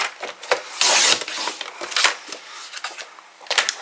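Craft pieces for the front and back covers of a waterfall album are cut down to size. Several close, dry rasping strokes arrive in quick succession, one longer and louder than the rest.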